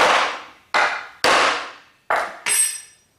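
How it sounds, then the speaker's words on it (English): Hammer-in T-nuts are driven into wood with five sharp, close hammer blows at uneven intervals, each ringing briefly before fading, with no talk. "Hammer these in here."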